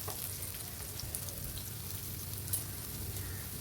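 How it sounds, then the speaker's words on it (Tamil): Onion fries in sesame oil for chicken thokku, making a soft, steady sizzle with a faint crackle, quiet and continuous with no voices. "வெங்காயம் போட்டு நல்லெண்ணெய் ஊற்றிட்டு"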